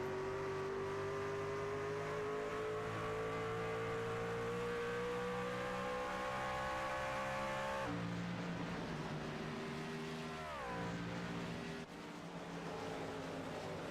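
An on-board race car runs practice laps, its engine a loud steady drone climbing in pitch through the gears, then a sharp downshift and renewed acceleration, with no talk.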